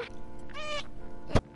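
Cat meowing in the video game Stray, one short clear meow close and loud, followed by a sharp click-like thump, with little else around it.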